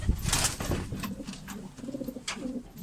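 Batarlı Adana pigeon, a ten-month-old female, cooing close by in a loft: a few soft, low throaty coos in quick succession, with some light rustling.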